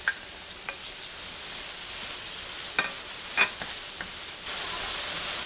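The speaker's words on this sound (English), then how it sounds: "I'm going to go ahead and add in the mushrooms and the zucchini, and I'm going to saute them until they are soft" Mushrooms and zucchini sautéing in oil give a steady, moderate sizzle throughout, with a few soft clicks and scrapes from stirring, and no voices.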